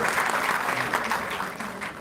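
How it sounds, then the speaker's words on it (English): Dense audience applause, loud and steady throughout, a crowd clapping together at close range. "Give a big round of applause."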